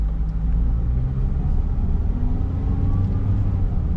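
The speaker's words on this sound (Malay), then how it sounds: "Sekarang pergi test run ni kereta." Perodua Myvi 1.5 SE automatic car, a 2016 facelift, on a test drive, with a steady low engine rumble heard from inside the cabin and no talking.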